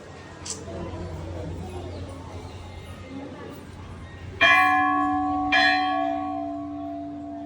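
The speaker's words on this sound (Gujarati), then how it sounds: "પછી ઘંટ વગાડે આ જોરથી" At a Meldi Maa temple, a metal bell is struck hard twice in quick succession, each loud clang ringing on with a long bright decay, after a stretch of background murmur.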